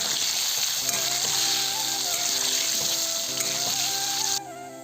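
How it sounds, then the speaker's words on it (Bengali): Potatoes frying in a pan with salt and turmeric hiss and sizzle steadily up close while a spatula stirs them, a continuous bright crackle that drops off sharply near the end. "নুন দিয়ে দিলাম একটু একটু হলুদ গুঁড়ো দিয়ে দিলাম আলুগুলো একটু নেড়ে নেবো"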